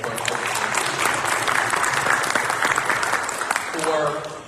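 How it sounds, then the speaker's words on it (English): An audience at a community forum gives a dense round of applause for several seconds, fading as a voice begins to speak near the end. "I actually give him a round of applause"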